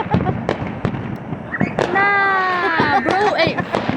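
Fireworks go off in a run of sharp pops and crackles, with a rising whistling streak in the middle, while people react and talk loudly over the bursts.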